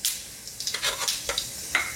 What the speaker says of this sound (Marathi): मोहरी छान तडतडली पाहिजे, तरच ती फोडणी खमंग बसते